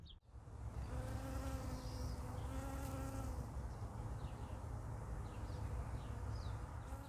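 Bees buzz steadily outdoors around flowering kale, a dense hum of many insects with individual wings droning close by, continuous and fairly quiet.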